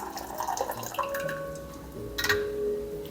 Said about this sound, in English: I know the water's coming out the bottom.